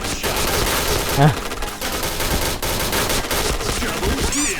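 The T7 gun fires in the Point Blank video game, a loud, rapid stream of automatic gunfire running throughout with game effects layered over it.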